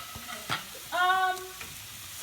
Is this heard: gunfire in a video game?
no